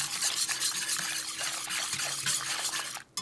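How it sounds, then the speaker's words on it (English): A utensil stirs keto caramel in a hot pan, producing a continuous bubbling sizzle with rhythmic scraping strokes, close and steady, ending in a brief handling clatter. "So I have to heat this up, cook it, stir it until it gets a little bit thicker."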